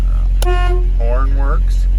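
A 1972 Ford F100 pickup sounds one short, loud honk of its horn, and someone speaks briefly right after it.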